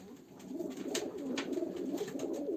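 Pigeons cooing at a live pigeon auction, soft repeated throaty coos close by, steady over a low murmur of the room.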